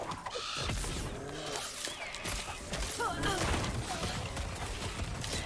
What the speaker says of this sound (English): I love the ballistas explosions